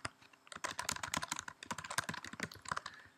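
Rapid typing on a computer keyboard while entering a C++ string literal, a close, quiet run of dense clicky keystrokes with brief pauses, heard alone.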